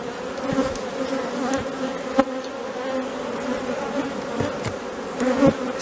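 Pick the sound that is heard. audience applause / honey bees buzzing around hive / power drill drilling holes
honey bees buzzing around hive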